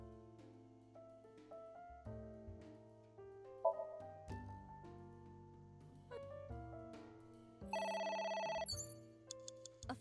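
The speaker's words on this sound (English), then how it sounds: "A phone." Telephone ringing in the AI: The Somnium Files game, a tinny electronic ring cutting in over soft tonal background music, fairly quiet and without talk.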